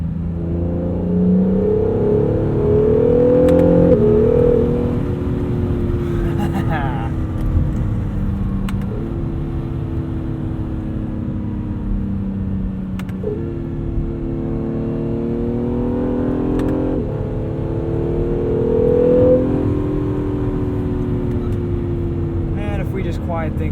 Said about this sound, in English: it's a very organic engine note. And it really does fill up the cabin.